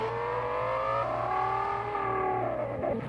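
Car driving in a video game: a steady engine whine with rising and shifting pitch as it accelerates, continuous and fairly loud, with a low droning hum underneath.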